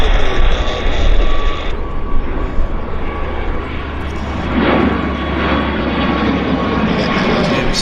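A Porter Airlines plane roars past at Vancouver YVR airport, its loud, broad jet noise filling the air and shifting as it goes by, with no talk over it.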